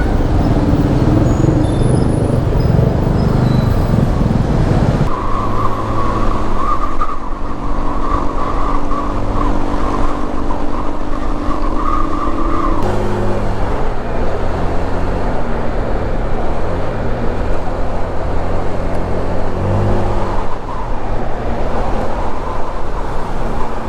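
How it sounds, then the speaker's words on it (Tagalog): Road traffic on Sales Road in Tanza, Cavite, heard from a Honda Click scooter: a continuous loud engine drone and wind rush, with passing vehicles and a steady tone shifting as speed changes. "Guys, medyo traffic na dito. Nasa Sales Road tayo."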